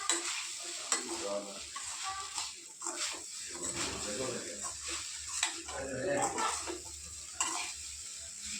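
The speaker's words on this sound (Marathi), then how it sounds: "आता परत तसंच हलवून घ्यायचं व्यवस्थित मिक्स करून घ्यायचं" Sabudana khichdi with boiled potato being stirred and mixed in a pan, a continuous sizzle under repeated scraping strokes, with faint voices and household sounds in the background.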